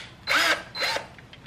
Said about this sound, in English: we are going to drill in the clockwise direction first.